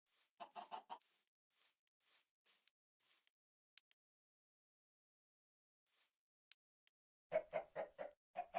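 Video game chickens cluck in short rhythmic bursts at the start and end, with sparse faint clucks and clicks scattered through a quiet middle stretch.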